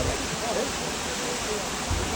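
Steady broadband rush of a waterfall at Kallar or Meenmutty near Ponmudi, close and continuous with no pauses.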